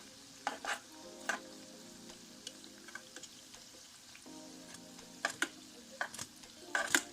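Food sizzles and fries in a pan, a steady crackling hiss running throughout with scattered sharp pops and occasional clinks of a utensil against the pan, close and without talk.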